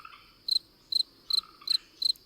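A cricket chirps in five evenly spaced bursts of rapid pulses, each sharp and fairly close, with a faint outdoor background hum between them.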